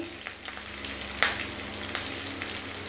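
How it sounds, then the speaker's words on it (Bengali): Spices and green chillies sizzle steadily in hot oil in a pan for a vegetarian dish, a constant close crackle with an occasional stir or clink of a utensil. "তো এগুলো একটুখানি ফ্রাই করে নেব।"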